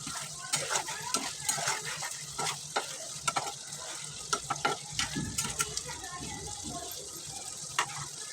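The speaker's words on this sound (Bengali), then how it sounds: "ঢাকনা সরিয়ে আমি আবারও নেড়ে চেড়ে দেব।" A spoon scrapes and knocks around a pan of spicy broiler chicken curry with potatoes, over a soft simmering sizzle, with irregular metallic clinks close by and a faint voice briefly underneath.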